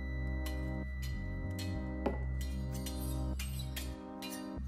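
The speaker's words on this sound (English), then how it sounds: "That is the sound of her walking around," High-heeled footsteps click sharply in a film scene, a steady run of separate taps laid over a sustained tonal background with no talking.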